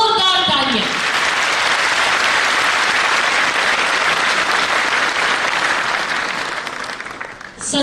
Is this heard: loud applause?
yes